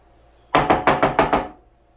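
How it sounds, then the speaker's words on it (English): A lid is put onto a jar of garlic scape pesto, giving a quick run of about six sharp knocks in steady rhythm, close and fairly loud, with no voices. "So I'm just gonna pop the lid on it"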